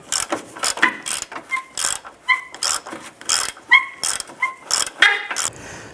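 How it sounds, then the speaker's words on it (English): Ratchet of a 21mm socket wrench clicking in short repeated bursts while loosening the forward control arm bolt on a 2005-10 Jeep Grand Cherokee, close and fairly loud with metallic tool knocks between strokes. "Using a 21mm socket, remove the forward mounted control arm bolt."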